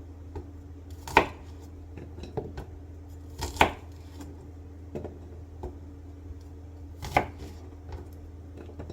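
A knife cuts shallots into quarters on a board, a few distinct sharp chops spaced irregularly, close and crisp, with faint light taps between them in a quiet room.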